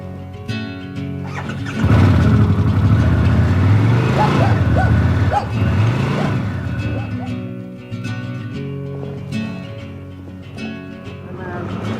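A motorcycle starts up and idles loud and close, the engine rising with a few revs before settling into a steady running drone, with a voice briefly over it.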